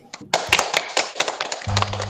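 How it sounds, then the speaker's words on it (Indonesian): Scattered hand claps from a classroom of students applauding their classmate Mas Abil after his presentation, uneven and brief, with a low hum entering near the end. "Beri tepuk tangan untuk Mas Abil"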